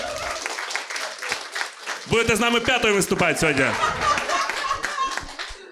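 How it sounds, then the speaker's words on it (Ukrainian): An audience at a stand-up comedy improv show applauds a spectator, dense clapping swelling for a few seconds in the middle while the comedian keeps talking over and around it. "Оплески цій глядачці."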